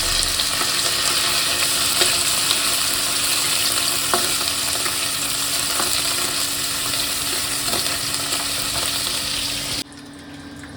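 Dried fish fries in hot oil in a home kitchen pan, a loud, steady, close crackling sizzle with scattered pops that runs unbroken for about ten seconds and then drops away sharply near the end.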